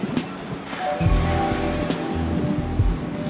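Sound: ocean waves breaking at surf spot

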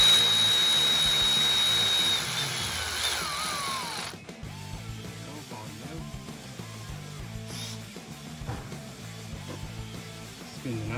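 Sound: battery ratchet spinning nut onto 6.7 Cummins ARP head stud

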